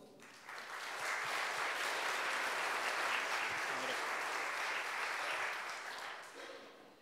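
A church congregation applauds during a Presbyterian worship service, with dense, even clapping that swells quickly, holds for several seconds and then fades away.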